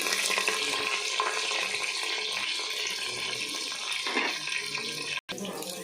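Tap water runs steadily and close while green chillies are rinsed in a kitchen, a continuous splashing flow that cuts out briefly near the end, with faint voices underneath.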